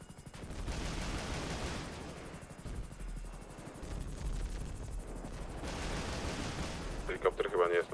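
Gunfire in a roleplay video game comes as scattered shots and bursts against a rumbling helicopter-like drone, moderately distant, with game sounds and voices mixed in.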